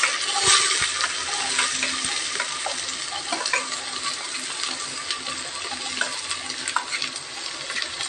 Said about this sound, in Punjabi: ਆਪਣਾ ਤੇਲ ਗਰਮ ਹੈ ਆਪਾਂ ਨਾਲ ਦੀ ਨਾਲ ਲਸਣ ਐਡ ਕਰ ਦੇਣਾ ਇਸ ਪਿਆਜ਼ ਐਡ ਕਰ ਦੇਣਾ